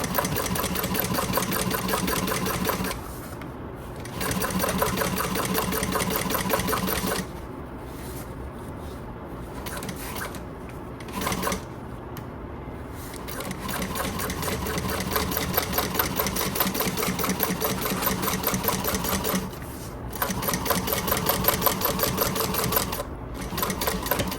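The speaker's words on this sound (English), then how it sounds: "stitch this accent vinyl down to our exterior panel on that line that we drew" A sewing machine stitches accent vinyl onto an exterior tote panel, a close, steady rapid whirring and clatter in several long runs separated by brief pauses.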